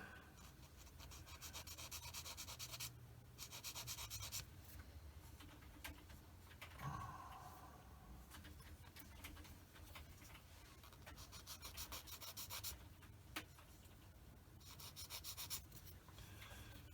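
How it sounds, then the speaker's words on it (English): A handheld sander rasps steadily against a plastic sprue-gate nub on a Tamiya 1/48 F-51D model kit part, continuous rubbing strokes close up with no talking. "just sand that off like that"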